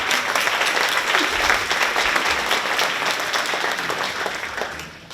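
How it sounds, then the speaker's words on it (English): A room full of people at a school open house applauds, a loud, full burst of many hands clapping together that holds steady, then thins out and fades near the end. "round of applause."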